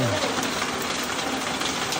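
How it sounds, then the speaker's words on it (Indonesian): Heavy rain pours steadily as a dense, even broadband hiss throughout, close and fairly loud, with no other clear sounds standing out. "Hujan deras di sini."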